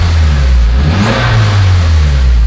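A 2008 Acura RDX engine running steadily with a low, continuous hum and a slight swell in revs midway, close and loud with no talking.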